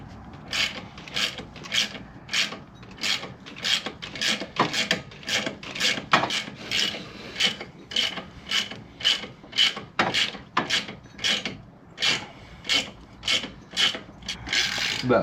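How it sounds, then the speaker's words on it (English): A balancer puller working on an LS engine's harmonic balancer in a truck, giving a steady series of sharp ratcheting clicks, close and loud, repeating rhythmically with no talk. "So we're gonna see if we can make this one work and try to get this balancer off of here."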